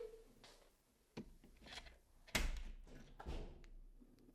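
A door in a home with a cat, heard as a few sharp thumps and knocks spaced a second or so apart, fairly close, over quiet room noise.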